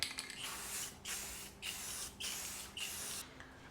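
Five short hissing bursts of aerosol tint coat spray onto vehicle taillights, each about half a second long with brief pauses between them, close and fairly soft.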